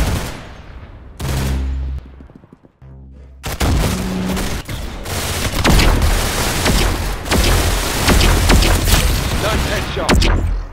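Loud, dense gunfire and booms from a Roblox shooter game played on mobile, with bursts of shots nearly continuous through the second half, layered over game sounds and music.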